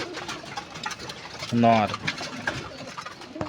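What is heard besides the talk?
pigeons cooing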